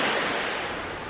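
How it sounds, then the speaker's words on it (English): Ocean waves wash onto an island shore in a steady, broad hiss of surf, close and continuous for a brief moment with no voices. "listening to the waves"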